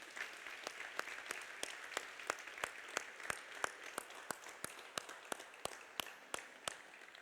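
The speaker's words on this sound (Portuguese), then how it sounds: "Dê uma salva de palmas para Jesus" Church congregation giving applause during a Sunday service, a steady run of sharp claps in an even rhythm, fairly faint and distant, with little talk over it.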